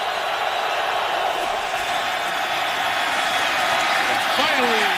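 Stadium crowd roars steadily during a Detroit Lions at Chicago Bears football game in Chicago, with a dense, continuous wash of cheering and a broadcast commentator talking over it.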